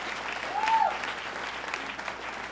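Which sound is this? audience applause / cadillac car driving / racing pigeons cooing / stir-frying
audience applause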